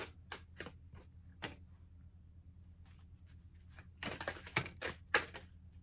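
Tarot cards are handled and shuffled up close in short bursts of crisp flicking and riffling, with quiet pauses between.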